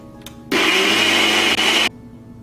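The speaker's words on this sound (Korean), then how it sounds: "뚜껑을 덮고 믹서기에 갈아줄게요." A blender grinds sweet potato with milk and honey for a latte, one loud steady whirring burst of about a second and a half that cuts off abruptly, with quiet before and after.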